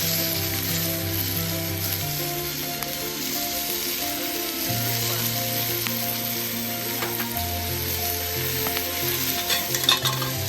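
Mango chutney bubbling and sizzling in a pan while a spoon stirs it, a steady frying hiss with low humming tones in the background, no voices.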